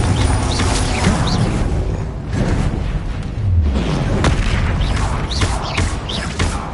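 Confringo explosive spell casts in Hogwarts Legacy PS5 gameplay, heard as repeated booming bursts and whooshes with mechanical clanks, loud and dense, mixed with other spell effects in rapid succession.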